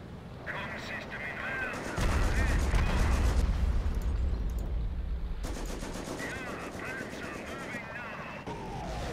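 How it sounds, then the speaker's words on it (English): Small arms fire from infantry in the World War II strategy game Company of Heroes crackles in rapid, dense bursts of gunfire over heavy rumbling battle noise, with talk layered over the fighting. "the infantry shoots at tanks"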